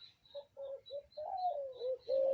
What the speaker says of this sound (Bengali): ডাকছে পাখি